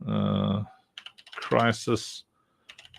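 Computer keyboard typing during a work-and-chat live stream: a few bursts of quick clicks fall between and after stretches of someone talking, close and moderately loud.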